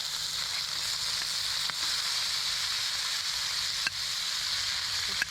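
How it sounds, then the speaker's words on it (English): Bratwurst sausages sizzle on a grill outdoors in a steady, crackling frying hiss, with a few faint pops and clicks and nobody speaking. "Next I'm going to add my sausage."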